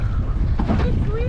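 Strong wind blows across the microphone on a boat off Lady Musgrave Island, a loud continuous rumble and buffet throughout, close and steady with no clear talking.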